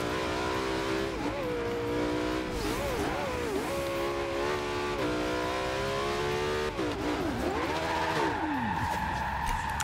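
A McLaren P1 engine in Forza Horizon 2 drones loudly and continuously, its pitch rising and dipping with repeated revs and gear shifts, with no talk over it.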